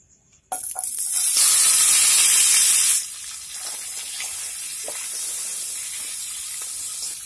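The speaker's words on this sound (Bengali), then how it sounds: "এবার এই কুচিয়ে রাখা ভেজিটেবলস গুলো দিয়ে দিন" Chopped vegetables hit hot olive oil in a wok and burst into a loud, bright sizzle that settles after a few seconds into a steady, softer frying hiss, heard close with no talking.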